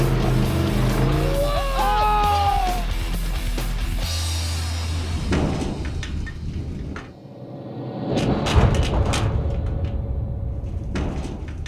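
A truck drifting during a car competition, with sharp tire squeals wavering in pitch over a loud engine roar, then thumps and shifting crowd noise as voices chatter around it.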